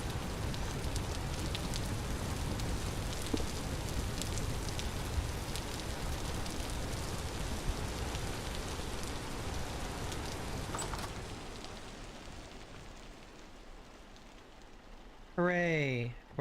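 Steady rain in the video game Vintage Story, a dense broadband hiss that holds loud for about eleven seconds, then thins and softens as if heard from shelter, with a voice briefly talking near the end.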